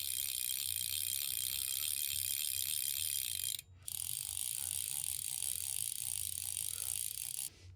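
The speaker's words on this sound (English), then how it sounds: "the Mako has a sound on both the incoming and outgoing, which is exactly what we like" Mako 9600B fly reel clicking as line is spooled, a fast, even ratchet buzz of tightly packed clicks that runs for several seconds, breaks briefly, then resumes, close and fairly muted, with no talking.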